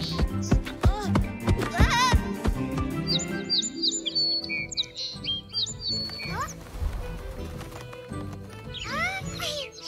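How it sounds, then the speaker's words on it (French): Cartoon birds chirp and tweet in quick rising whistles, drawn to a reed bait, mixed with music, bright effects and brief speech. "On avait enfin réussi à attirer des oiseaux avec notre appât."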